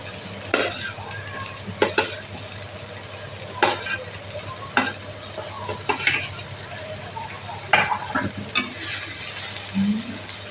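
A spoon stirs fried spices with raw banana in a pan for shukto, giving repeated scraping strokes at irregular intervals over a low, steady sizzle and hum.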